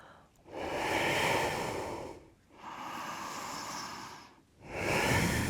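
Deep yoga breaths during a vinyasa flow, three long, close, audible inhales and exhales with soft airy rushes separated by brief pauses, and no talking.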